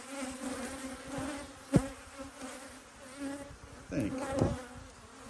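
Honeybees buzz steadily around an apiary hive, a close, persistent insect drone with individual bees flying past the microphone, while a person speaks briefly and quietly.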